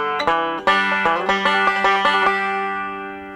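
A five-string banjo plays a Scruggs-style bluegrass intro with bright, close, plucked notes in a quick driving roll, ringing strings sustaining under each new pluck before the final chord decays.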